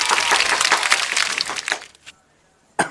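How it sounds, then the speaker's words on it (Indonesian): Audience applause at a Sundanese comedy stage show, a dense crackling clatter of clapping that fills about two seconds, then a brief lull before another short burst breaks out. "tepuk tangan buat semuanya."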